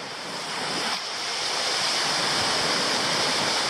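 Meander Falls in Tasmania pours in a steady, dense roar of falling water, close and loud, with some wind buffeting the microphone and no voices.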